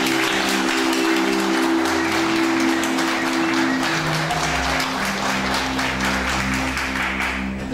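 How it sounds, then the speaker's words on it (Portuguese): Loud, steady crowd applause fills the hall at a formal ceremony for an immigration bicentennial at Casa da Fazenda do Morumbi, continuous clapping layered over sustained musical tones. "vamos aplaudir o professor Michel Chelala."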